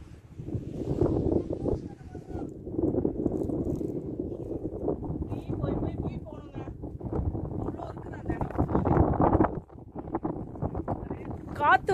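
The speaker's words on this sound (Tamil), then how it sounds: "காத்து வந்து என்னைய கீழே தள்ளி விட்டுரு போல" Strong gusting wind at a high mountain viewpoint on Jebel Akhdar, Oman, roaring and buffeting the microphone loudly and continuously while someone talks over it.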